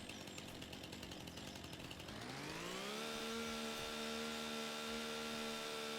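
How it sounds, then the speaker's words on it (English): A chainsaw in Farming Simulator 25 revs up from a rough idle into a loud, steady high-pitched whine that holds close and constant to the end. "I forgot you can't walk with a chainsaw."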